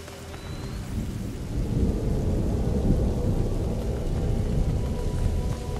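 Rain and thunder in the video game A Plague Tale: Innocence: a steady hiss of heavy rainfall with deep rolling thunder swelling underneath, continuous and fairly loud, with no voices.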